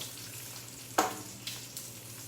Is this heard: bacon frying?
yes